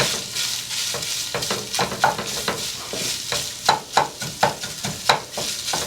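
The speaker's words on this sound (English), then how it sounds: "take that other half of onion we had, put that in there, mix it on in" Onion stirred into frying ground beef in a pan for enchilada casserole, a loud continuous sizzle broken by a quick run of rhythmic scraping spoon strokes.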